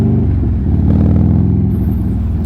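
A Buell Lightning XB12S motorcycle engine pulls steadily under acceleration, a loud, continuous low-pitched drone with a rumbling, evenly pulsing exhaust note, heard up close and alone with no talking.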